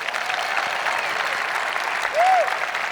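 A conference crowd at the VeeCon 2023 opening keynote claps in a show of hands, a broad steady roar of applause with a faint whistle rising briefly near the end.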